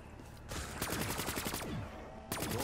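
Gunfire in Call of Duty Black Ops 3 Zombies on the Der Eisendrache map, heard as rapid bursts of shots at a quick, even rhythm that come in two stretches with a short lull between them, loud and close, with no talking.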